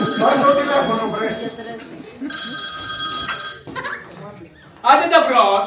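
A telephone bell rings in a grocery shop in two loud, close bursts with a pause between them, while people talk and laugh around it.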